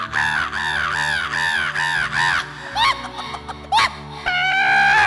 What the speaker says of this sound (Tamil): சுத்தி இருக்க பறவைலாம் அதை காப்பாற்ற முயற்சி பண்ணது.